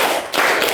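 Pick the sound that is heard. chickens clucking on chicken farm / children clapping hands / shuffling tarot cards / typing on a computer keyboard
children clapping hands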